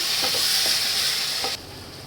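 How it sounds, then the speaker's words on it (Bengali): Potatoes and meat with bay leaves and spices sautéing in a pan, a steady close sizzle with a few soft stirring scrapes, dropping quieter near the end. "এই আলু করে এটা কষিয়ে নিই"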